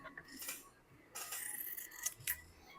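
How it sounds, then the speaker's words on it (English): Fiberglass scrap being cut to fit a 1996 Bumble Bee bass boat, a few short, close snips and scraping cuts in quick bursts, fairly faint with no talk. "And we're going to cut that right there."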